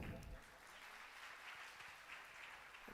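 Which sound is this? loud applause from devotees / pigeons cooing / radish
loud applause from devotees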